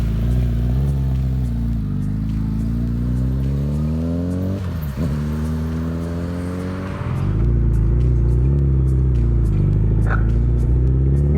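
A Suzuki Hayabusa motorcycle being ridden, its engine droning steadily up close. The pitch climbs through the middle, dips sharply as it changes down, then settles back into a strong, even hum.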